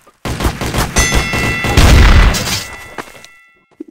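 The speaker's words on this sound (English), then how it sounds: "Why are you shooting my feet?" Video-game gunfire rattles loud and close in a sustained burst of rapid shots with a booming peak midway, then cuts off, leaving a few faint clicks.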